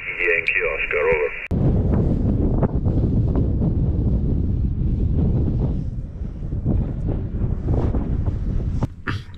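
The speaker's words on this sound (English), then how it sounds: "Proper windy out there." After a brief radio-like tone, heavy storm wind buffets the microphone in loud, gusty rumbles at an overnight ham radio camp, with a voice talking faintly beneath the roar.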